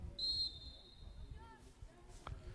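At a women's rugby quarter-final between Veneto and Marche, the referee blows a long shrill whistle, heard faintly from a distance over crowd murmur and a commentator's voice.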